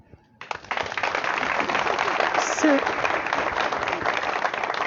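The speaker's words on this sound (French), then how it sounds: "je crois que quelqu'un l'a applaudi" Applause at a general assembly of a Gabonese workers' union, starting abruptly after a brief quiet and continuing as steady, fairly loud clapping for several seconds with voices audible underneath.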